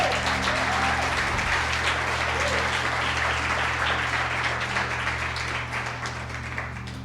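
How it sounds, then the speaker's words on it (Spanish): A church congregation applauds during an Easter Sunday service, a broad, continuous wash of many hands clapping that holds steady and eases off slightly toward the end, with a low hum beneath. "Ahora sí puedes darle un aplauso al Señor si quieres."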